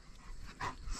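A dog in a small backyard garden gives a brief, faint whimper-like sound, a short yelp or whine over low outdoor background noise.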